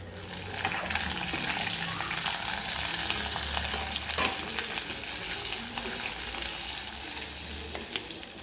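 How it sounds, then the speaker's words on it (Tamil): Steady sizzling of onions frying in a pan, a broad hiss with occasional crackles and pops, close and continuous, no talking. "இதை நம்ம இதோட சேர்த்து பொன்னிறமாக வறுத்து எடுத்துக்கலாம்"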